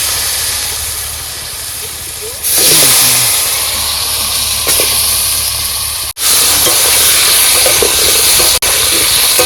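Whole garam masala hits hot oil outdoors on a stormy day, a loud broad sizzling hiss that swells suddenly and continues steadily, with brief dropouts and people talking nearby.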